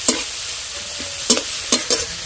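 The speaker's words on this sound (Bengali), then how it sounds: "রসুন কুচি, কাঁচা লঙ্কা কুচি, টমেটো কুচি। একটু ভালো করে ভেজে নেব।" Chopped garlic, green chilli and tomato fry in a pan under a steady sizzle, broken by four or five sharp scraping stirs of a spatula close by, with no talking.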